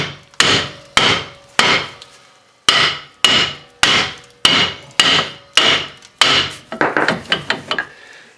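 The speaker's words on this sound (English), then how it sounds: "a good tap with the BFH, big friendly hammer, just a few little taps will sometimes jar it free" Sharp metallic blows from a big hammer land one at a time in a steady rhythm, about ten of them, striking to jar free a seized parking brake, then a quicker flurry of lighter taps near the end.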